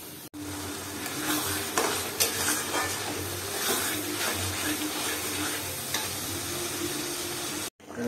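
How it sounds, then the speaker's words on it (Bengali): Beans, carrots and capsicum fry in white oil and ghee with cardamom, giving a steady close sizzle with occasional stirring scrapes, and a voice talks faintly underneath. "ফ্রাই রাইসের জন্য মানে সব বিনস গাজর আর ক্যাপসিকাম ভেজে নিচ্ছি এটা সাদা তেল আর ঘিয়ে ভাজছি"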